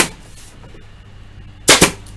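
A staple gun drives wide crown stainless steel upholstery staples into a wooden cathedral frame. It gives one sharp snap at the start and two quick, loud cracks near the end, separated by quiet.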